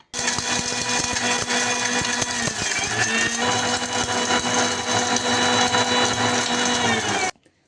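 A kitchen mixer grinder powders fried ingredients for a bitter gourd fry, running as one steady, loud motor whir with rattling contents for about seven seconds before it cuts off abruptly.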